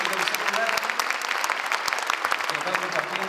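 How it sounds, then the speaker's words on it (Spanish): Audience applause fills a school Teachers' Day ceremony, steady, dense clapping from a crowd lasting a few seconds, with speech over it. "Le brindamos un fuerte y cariñoso aplauso."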